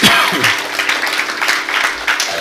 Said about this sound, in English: Would you give the Lord a hand clap of praise?